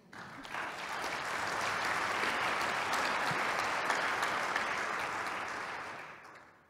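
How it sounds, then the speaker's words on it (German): Applause at a Green party climate congress, a quiet, distant, even wash of clapping that swells in, holds for several seconds and fades away. "Applaus."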